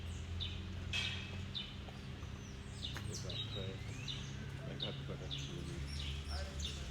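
Many birds call and chirp around Arusha Planet Lodge in Tanzania, with overlapping short tweets and whistles at moderate distance over a steady low background hum.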